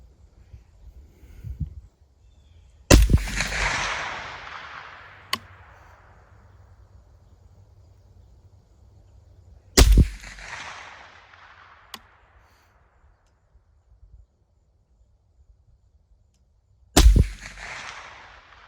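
Three loud rifle shots ring out outdoors several seconds apart while a deer rifle scope is sighted in, each a sharp crack followed by a long rolling echo, with quiet stretches between.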